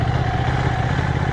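A motorcycle engine running loud and close, a steady low throbbing rumble with a rough, even texture throughout the brief moment, with no voices.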